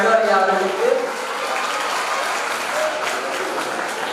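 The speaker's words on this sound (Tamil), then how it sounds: "மீண்டும் ஒரு முறை சிறப்பான கைத்தட்டல் நம்முடைய நடுவர் ஐயா அவர்களுக்கு" A ceremony audience claps for the judge at a consumer rights day event, with sustained, fairly loud applause from a crowd that starts over a brief voice and then carries on alone.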